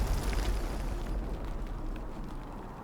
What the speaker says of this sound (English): maybe we can guess where he thinks I am based on where his artillery is falling